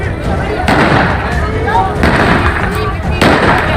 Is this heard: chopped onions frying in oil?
no